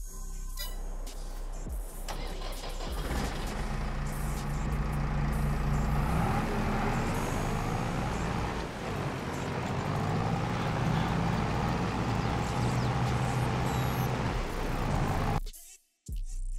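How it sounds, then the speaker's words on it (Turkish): Steady, continuous engine drone of a farm machine in Farming Simulator 22, running during canola harvest, holding a constant loud level with slowly shifting tonal bands, then cutting out abruptly near the end. "Şöyle bir makine sesi de duyalım hatta."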